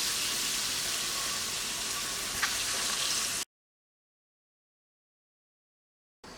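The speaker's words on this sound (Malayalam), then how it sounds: "പപ്പടം കൂടി പൊരിക്കുന്നുണ്ട്." Papadam fries in hot oil with a loud, dense, even sizzle for about three seconds. It cuts to silence, then the sizzle briefly returns.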